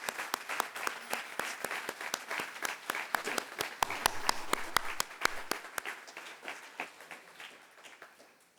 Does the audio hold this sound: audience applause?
yes